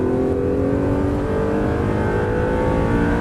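A car engine revs loudly and continuously with rising, whining tones as it accelerates hard out of a corner on a race circuit at close range, no voices.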